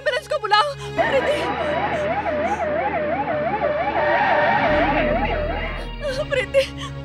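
An ambulance siren wails with a rising and falling tone in a dubbed action movie, mid-loud under frantic shouting voices and a low rumble.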